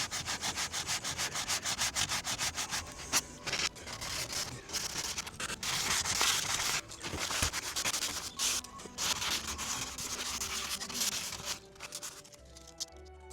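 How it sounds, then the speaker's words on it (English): Rapid back-and-forth strokes of sandpaper rubbing against wooden trim, close up and rhythmic, with short pauses between bursts. "carefully sanding the surrounding trims and beads, using a combination of sandpaper and sanding sponges"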